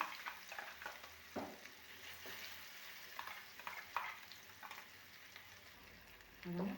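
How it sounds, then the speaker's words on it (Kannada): Spicy ridge gourd chutney paste fries in a pan of hot oil, a soft continuous sizzle broken by repeated scraping stirs and light crackles, fairly quiet with no talking. "ಬಿಸಿ ಎಣ್ಣೆಯಲ್ಲಿ ಇದನ್ನು ಹಾಕಬೇಕು"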